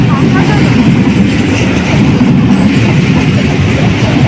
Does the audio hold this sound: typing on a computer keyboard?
no